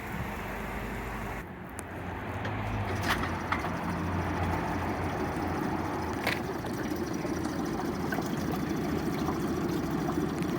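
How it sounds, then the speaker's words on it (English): A Honda BF20D3SH short-shaft four-stroke outboard motor starts and settles into a steady, quiet idle, a low continuous rumble with faint mechanical ticking, heard close and alone. "As you can see, motor starts up nice and quiet."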